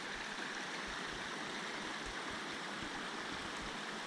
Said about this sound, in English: This section of the Rose River Loop Trail closely follows the stream through a series of pools and rivulets.